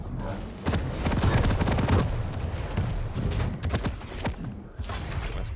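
Rapid machine gun and lightning gun fire during a competitive video game match, continuous crackling gunfire and buzzing shots throughout with intermittent impacts, fairly loud and busy.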